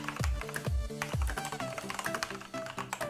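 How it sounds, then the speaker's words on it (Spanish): Fast typing on a mechanical keyboard with a wrist rest, a dense run of crisp clicky keystrokes close to the microphone, with some louder thumps near the start over background music. "Qué rico es escribir en un teclado mecánico"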